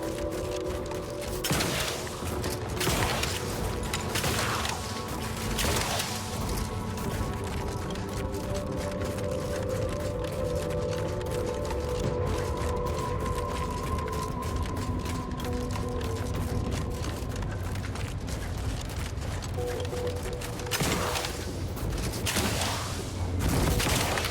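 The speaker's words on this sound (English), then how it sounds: "oh, there's some shooting" Gunfire exchanged in the video game The Outer Worlds 2, with scattered shots and bursts popping out of a dense layer of ambient game noise and music over roughly twenty-four seconds.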